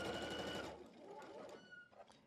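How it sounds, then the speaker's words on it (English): A sewing machine stitches quilt block pieces together with a short, fast whirring run that stops after under a second, followed by quieter handling sounds; faint and close. "So now we are going to just sew these together"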